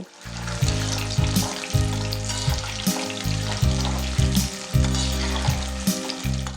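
Chicken pieces sizzle in hot oil in a kadai over medium heat, a steady crackling fry with stirring, accompanied by a loud pulsing low-pitched rhythmic beat.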